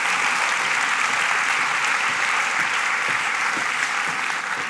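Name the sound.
audience applause welcoming a guest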